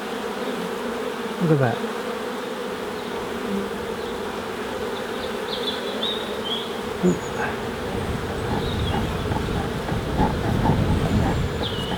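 Honeybees buzzing in a hive about to swarm, with queen cells present, a dense steady hum close by, and a brief spoken remark over it.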